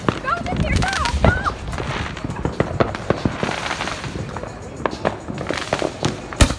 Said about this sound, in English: It's a black box artillery shell.